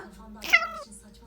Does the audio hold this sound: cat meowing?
yes